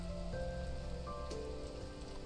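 Light rain patters softly and evenly, a quiet, continuous hiss of drops under steady tonal game music with no voices.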